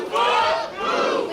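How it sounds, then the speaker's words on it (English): Loud roaring cheers from a live independent pro wrestling audience, swelling in two sustained waves of massed voices with no commentary over them. "Crowd firmly behind Bufa"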